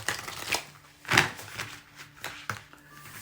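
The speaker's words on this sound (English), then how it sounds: "These cards, the stock is very thick on them, so it can be difficult for me to shuffle them. That's why I shuffle them sideways." Thick-stock tarot-style cards shuffled sideways by hand, giving several separate papery riffles and slaps spread across a few seconds, close and fairly quiet, with no talking.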